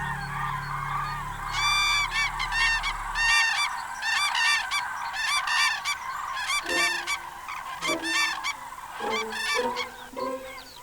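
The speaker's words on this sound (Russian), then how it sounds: "А на прощание, перед отлетом, журавли танцуют." Cranes calling before their autumn migration, loud repeated trumpeting bursts from several birds overlapping in irregular rhythm, close by, with a low engine-like hum at the start fading away after a few seconds.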